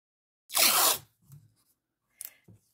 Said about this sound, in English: I'm going to tape off where I want the black paint to go.